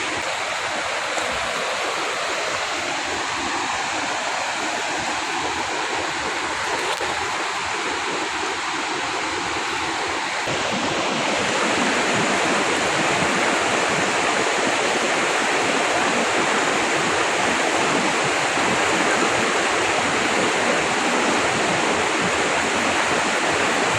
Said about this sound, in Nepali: यो खोला तरेर जानुपर्ने हो